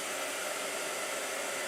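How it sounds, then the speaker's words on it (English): A blow dryer runs steadily at full power, a loud, continuous broadband whoosh filling the short stretch with no talking. "Is the blow dryer really loud today, or is it just me?"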